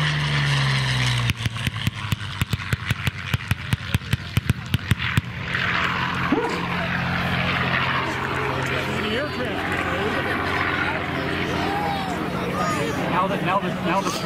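A P-40 warplane's propeller engine runs at an air show flight demo, rising from rhythmic pulsing bursts into a steady drone. Talk is heard over it.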